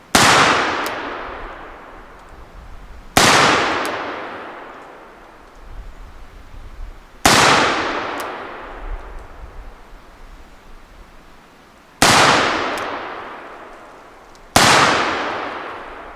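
An engraved EMF Dance & Bros black-powder revolver fires heavier Johnston Dow conical slugs at 15 yards: five loud, sharp shots spaced a few seconds apart, each followed by a long, booming, echoing decay, with no talking.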